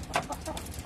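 Farm chickens cluck in a few quick, soft bursts while pecking at black soldier fly (BSF) maggots, close by and fairly quiet.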